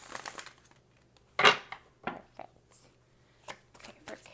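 Tarot cards being shuffled and pulled, heard as a few short, crisp riffling bursts and soft paper snaps separated by quiet pauses, close by and fairly faint.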